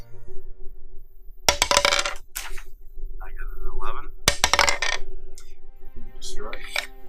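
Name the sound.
dice rolled in a tabletop wargame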